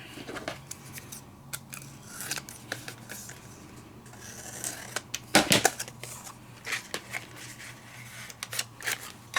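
Scissors trim excess paper and tape at close range. Repeated crisp snips and rubbing scrapes come through with a louder cluster of cuts midway.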